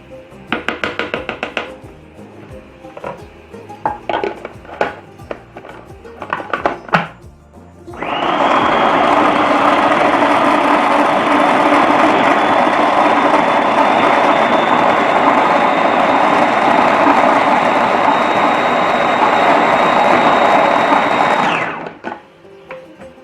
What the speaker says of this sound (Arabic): هبدأ اضغط على الخلاط بالشكل ده، انزل كل الثوم بتاعي لتحت